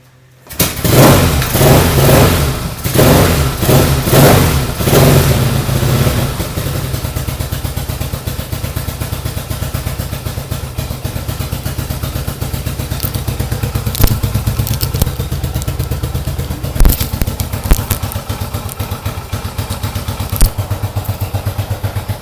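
A 1970 Yamaha XS650 motorcycle engine cranks and fires with loud, rhythmic pulses, then settles into a steady, clattering idle that runs close and continuous.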